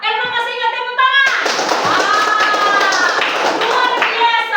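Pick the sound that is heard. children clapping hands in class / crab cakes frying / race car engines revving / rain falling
children clapping hands in class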